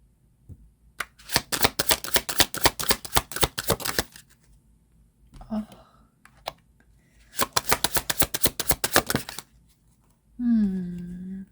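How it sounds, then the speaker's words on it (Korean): Tarot cards are shuffled in two long, dense riffling bursts, crisp and close, with softer card handling and a voice briefly between them. "두 번째 카드 뽑도록 할게요."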